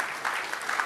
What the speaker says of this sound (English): I thought that was going to be worth an applause